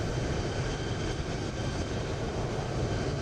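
Jetstar airliner arriving at Frankfurt in Microsoft Flight Simulator 2020, a steady broadband jet-engine roar that stays constant and fairly loud throughout without talk.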